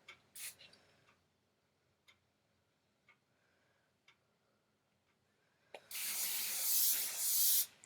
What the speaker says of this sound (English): I'm gonna spray my hair one more time.